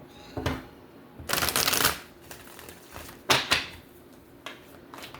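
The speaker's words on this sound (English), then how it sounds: "Let's shuffle." Tarot cards being shuffled by hand, a few separate riffling bursts of crisp papery flutter, close and moderately loud, separated by quiet pauses with no talking.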